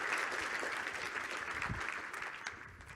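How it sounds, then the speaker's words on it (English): An audience at a DevOps conference talk claps steadily, a full wash of applause from a crowd that gradually eases off toward the end. "Round of applause, please."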